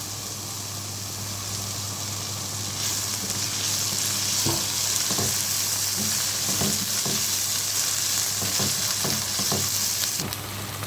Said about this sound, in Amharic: ሽንኩርቱን እንደዚህ እያቆላላሁት ነው።